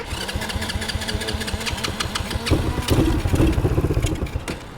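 A four-wheeler ATV engine runs close and loud with a rapid, choppy putter, then revs up briefly as it shifts into first gear.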